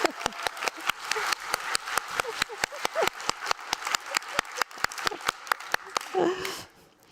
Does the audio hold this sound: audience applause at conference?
yes